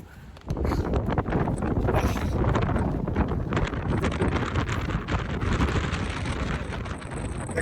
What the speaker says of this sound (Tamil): காத்தோட பலம் ரொம்ப அதிகமா இருக்கு